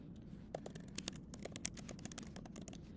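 Keys clacking on a computer keyboard while a search term is entered in Canva, a quick run of close, light taps with a few louder strikes over a steady room hum.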